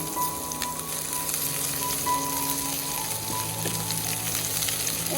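Chopped garlic and green chilies fry in oil over a spiced pan for a village-style pointed gourd dish, giving a steady, close crackling sizzle throughout with no talking.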